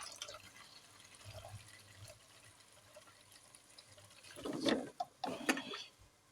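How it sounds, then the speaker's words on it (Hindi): Water poured by hand into a pot while cooking khichdi, soft trickles early on, then louder splashing bursts near the end, close and fairly quiet. "एक हाथ से पानी डालना ही बड़ा मुश्किल हो रहा है।"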